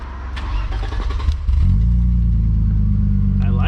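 A V6 car engine fitted with a Fox exhaust, idling roughly at first and then rising into a loud, steady rev held close by for the last couple of seconds.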